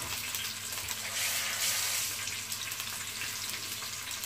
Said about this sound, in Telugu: ఇప్పుడు ఇది కాస్త వేయించుకుందాం లైట్గా.